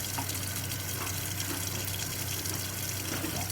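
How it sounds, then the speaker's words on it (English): Water gushes steadily from a sink faucet for handwashing before cooking, a continuous broadband hiss and splatter that stays even and close throughout with no talking. "And got my water running."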